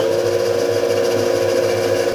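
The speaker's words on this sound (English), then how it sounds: "Right, let's turn the spindle on." Milling machine spindle running on a DIY through-spindle coolant setup, a steady close mechanical hum with an even tonal whine and a faint rhythmic pulse, alone with no talk.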